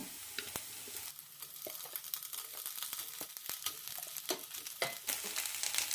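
Turmeric powder and green chili sauté in a pan, crackling and sizzling up close, with scattered sharp pops and scraping stir sounds that grow louder toward the end.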